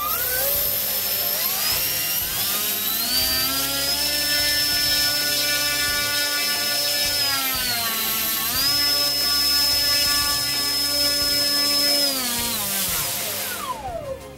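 An NTM Prop Drive 28-26A 1200kv brushless motor spinning a propeller at full throttle on a thrust test: a loud, steady high-pitched whine that dips briefly and recovers, then cuts off at the end.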